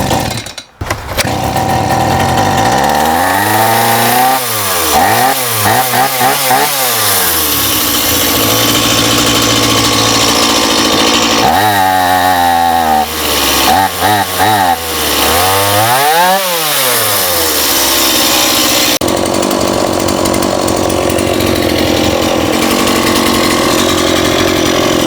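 A STIHL chainsaw, flooded after bar oil went into its gas tank, roars loudly after restarting, cycling through repeated throttle revs that rise and fall before settling into a steady high run.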